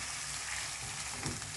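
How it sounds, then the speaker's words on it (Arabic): Alexandrian-style liver fries in plenty of oil while being stirred, giving a soft, constant sizzle with a brief stirring scrape near the end. "نقلب بقى كده عشان ايه الكبده يتغير لونها."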